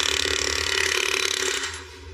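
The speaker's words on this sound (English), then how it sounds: "I'll go with the Flemish hammer" A Flemish hammer pounds a steel panel for a Jeep Gladiator in a rapid, even machine-gun rhythm of close, loud blows. It stops abruptly after about a second and a half, leaving a fading hum.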